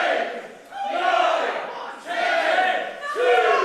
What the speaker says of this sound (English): The crowd here are trying to count for referee Tom Scarborough.